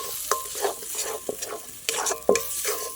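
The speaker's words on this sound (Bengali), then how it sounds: "যতক্ষণ না টানবে ততক্ষণ আমি ভালো করে ভেজে নেব" Banana flower mixture with turmeric and salt frying in a pan, a steady close sizzle broken by repeated scraping stirs of a spatula, roughly every half second, with no voices.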